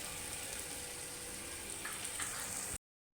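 Prasad cooking with oil frying in a pan, a steady soft sizzle of hot oil that runs unbroken and fairly faint with no voices, then cuts off abruptly.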